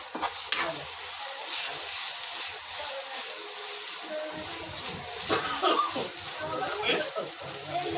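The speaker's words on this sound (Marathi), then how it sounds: "त्याला व्यवस्थित असं मसाले हलवून घ्यायचे आहेत आपल्याला" Spices, onion and tomato stirred in a pan, soft sizzling and scraping of a spoon against metal, steady and close, with a few louder clinks near the start and a voice talking over it.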